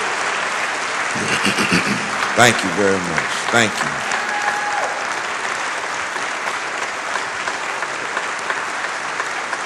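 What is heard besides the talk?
audience applause at memorial concert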